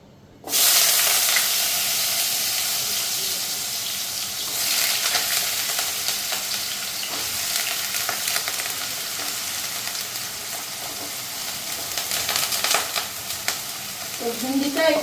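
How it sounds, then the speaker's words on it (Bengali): Potatoes dropped into hot oil burst into a loud, steady sizzle that carries on close by for the whole stretch, with occasional stirring scrapes and no talk. "এদিকে তেল গরম হয়ে গেছে, তো আগে আলুগুলি দিয়ে নিই।"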